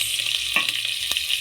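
Meat sizzles in a pot while being stirred, for an arrowroot dish, close and steady with a few scrapes and knocks.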